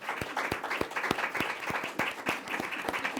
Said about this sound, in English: let's clap together to thank our panelists